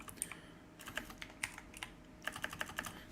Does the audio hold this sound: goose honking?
no